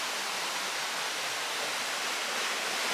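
Small waterfall on a river near Rishikesh, India, feeding toward the Ganges: a steady, dense rush of falling water, close and continuous, with no voices.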